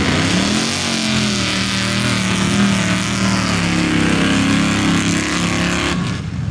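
A street rod class race car with a 383 stroker engine roaring down a mud drag track in Canistota, South Dakota, loud sustained engine drone with rising and falling pitch, cutting off near the end.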